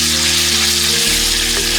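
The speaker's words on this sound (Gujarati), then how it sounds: "ટામેટાની પ્યોરી, બધાને સરસ ફેરવી લઈએ." Tomato puree frying in oil in a pan for a pointed gourd (parwal) masala, with a steady loud sizzle and stirring scrapes throughout and no talking.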